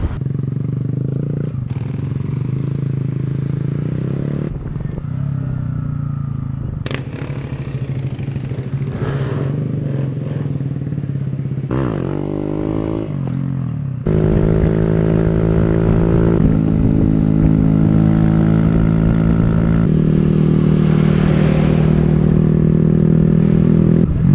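A Honda Grom motorcycle engine runs close by, idling and revving with a rough, buzzy drone that grows louder and steadier in the second half, without speech over it.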